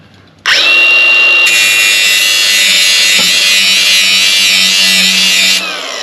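A power grinder grinds metal on the gate of a lawn service trailer. It starts suddenly with a loud, high whine, then settles into a steady, harsh grinding drone for several seconds before spinning down.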